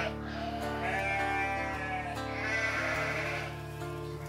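Ibex hunting goat bleating repeatedly at close range, loud drawn-out cries running one after another over a steady low background.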